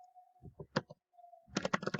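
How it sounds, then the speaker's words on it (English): Quick, light keystrokes on a computer keyboard while entering database code, a few scattered taps followed by a fast cluster of clicks, close and quiet. "we need to type an insert into"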